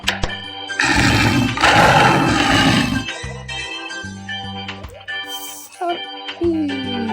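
A tiger roars in a children's animal-feeding game as it is given meat, a loud burst of growling roar up front, followed by game music and chimes.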